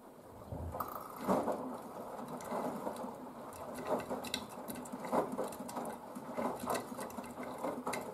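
A Blomberg WNF9448 washing machine runs a fast coloureds cycle on a full 40-degree load. It makes a quiet, steady mechanical churning with soft rhythmic thumps and patter from the drum.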